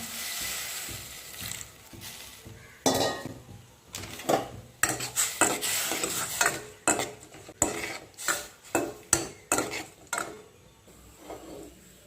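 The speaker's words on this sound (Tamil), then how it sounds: "கொஞ்சம் வெல்லம் போட்டு கரைச்சி எடுத்துக்கலாம்" A metal spoon stirring jaggery in a pot as it dissolves, producing irregular clinks and scraping knocks against the vessel, bursts of clattering that grow busier and louder midway, with no talking.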